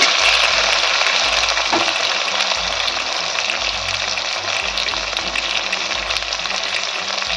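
Small tomatoes fry in a pan for a cabbage dish, stirred as they cook. A loud, dense sizzle runs continuously, with low scraping thuds from the stirring repeating every second or so, and no voices.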